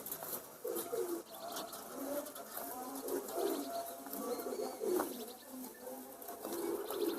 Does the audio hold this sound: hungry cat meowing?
no